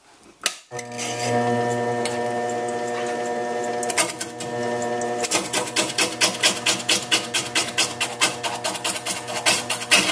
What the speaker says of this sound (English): I'm going to be working from this line out to the end using a bowl gouge